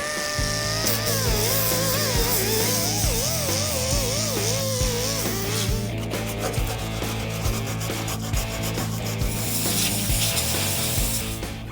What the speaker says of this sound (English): follow it up with some wire brush on top of that rust